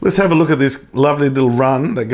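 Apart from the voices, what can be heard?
No everyday noise stands out behind the speech.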